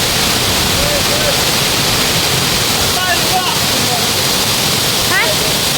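Loud, constant roar of Mai Kai waterfall rushing nearby, with faint bird chirps briefly poking through the dense wash of water.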